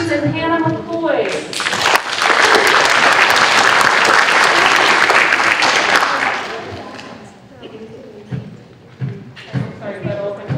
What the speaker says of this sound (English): Round of applause for our wonderful English